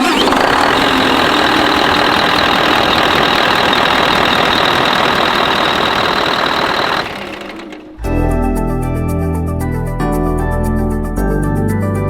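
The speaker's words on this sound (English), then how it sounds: "reconnect the battery, start up the engine, and make sure everything is firing up okay." Scania V8 truck engine cranking to life and settling into a loud, steady rattling idle, heard up close for about seven seconds before the sound changes abruptly.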